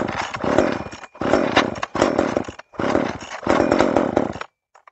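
Poulan Micro XXV chainsaw engine, with a faulty oil pump check valve being replaced, snarls loudly in four bursts of running separated by brief cuts, then falls silent, close by with no talk.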